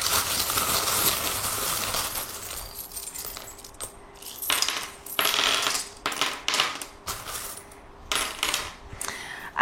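Small metal charms clatter and jingle as they are dropped and scattered onto a surface for a divination reading, several bright clinking bursts with short pauses between, close and fairly loud, no talking.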